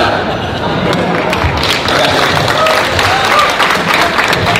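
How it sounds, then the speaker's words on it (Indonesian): A crowd applauds continuously, a dense wash of clapping with some background voices, fairly loud and sustained throughout. "Sekali lagi tepuk tangan buat Rocky."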